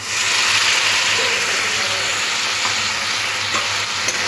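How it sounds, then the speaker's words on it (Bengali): Steady, close sizzling and hissing as a paste of ginger, chilli and tomato is stir-fried with potatoes for a katla fish curry, with faint stirring scrapes throughout. "এটাও আলুর সাথে কষে দিতে হবে।"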